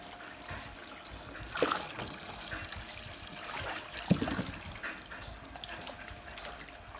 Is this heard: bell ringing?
no